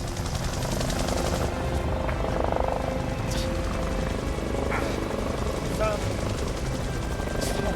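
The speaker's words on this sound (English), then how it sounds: "I hear the drone of the helicopter engines" Helicopter engines drone steadily throughout during a night mountain rescue in the Colorado Rockies, a continuous loud rotor and turbine hum with faint rhythmic chopping and a few brief higher tones over it.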